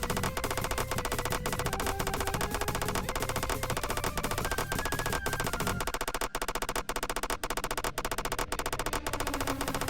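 Rapid video game gunfire from a weapon with endless ammo, a steady loud automatic stream that runs the whole time over a busy game soundtrack, with no pause for reloading.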